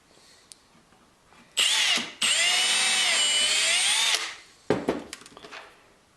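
A power drill drives through a wooden upright for a cathouse deck, with a short burst, a brief pause and then a long, loud whine that winds down. Lighter knocks and handling noises follow.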